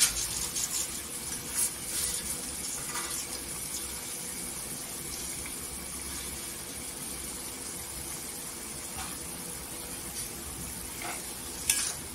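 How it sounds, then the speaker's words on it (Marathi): Continuous soft sizzling and bubbling as masala simmers in a pan for whole masoor dal, with occasional faint stirring scrapes. The sound is steady and close, with no voices. "छान इथं मसाल्याला उकळी आलेली आहे"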